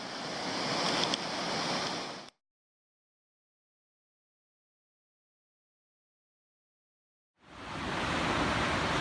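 Boulder Falls on the Cradle Mountain–Lake St Clair circuit pours with a steady broadband roar, loud and continuous, cutting to silence for several seconds before the rushing water returns.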